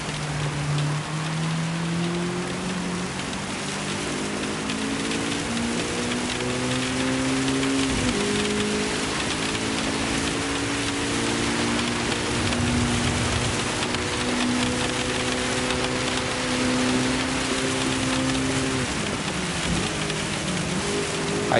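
Steady rain falls on a racetrack in Gran Turismo 7 while a Honda Civic Type R's engine drones beneath it, its pitch rising and falling through gear changes, with constant spray and hiss throughout.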